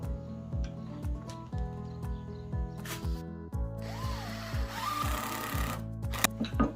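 A cordless drill drives a screw into a Kreg 720 Pro pocket-hole jig joint: a steady, close motor whine with a rising pitch swell midway and repeated clicking pulses throughout, no talking.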